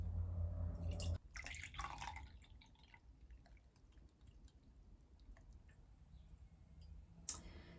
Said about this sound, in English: So I'm going to use my tea strainer just to get rid of those.